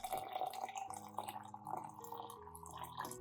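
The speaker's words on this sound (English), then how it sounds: "Next, add about 500 milliliters of hot water." About 500 milliliters of hot water is poured onto an onion to make a plant solution, a faint trickling and dripping stream of liquid heard close and alone.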